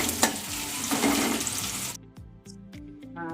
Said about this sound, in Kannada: ಅದಕ್ಕೆ ಒಂದು ಈರುಳ್ಳಿ ಹಾಕೊತಾ ಇದ್ದೀನಿ. ಸ್ವಲ್ಪ ಫ್ರೈ ಮಾಡ್ಕೊಳ್ಳಿ.